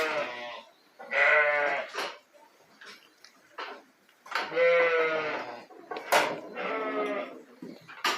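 Lambs on a farm bleat in several loud, close calls, overlapping at times, with short quiet gaps and faint ticking between them.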